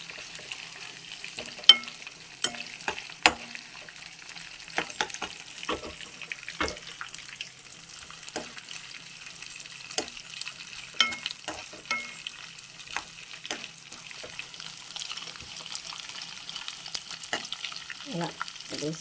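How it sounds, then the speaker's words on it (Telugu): Guta punugulu fritters fry in hot oil, a faint continuous sizzle broken by frequent sharp pops and crackles scattered through the quiet background, with no talking. "వేగుతున్నాయి కదా, కొంచెం సేపు వేగితే"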